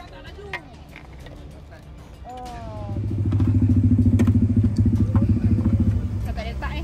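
Motorcycle engine rumbling up close, swelling into a steady throbbing drone that holds for several seconds, with people talking over it.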